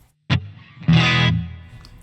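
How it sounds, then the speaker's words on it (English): An electric guitar played through a Genome amp simulator with studio reverb added: a short plucked note, then a fuller distorted chord that rings briefly and decays into a reverberant tail. "If we maybe add, just because why not, a little bit of studio reverb"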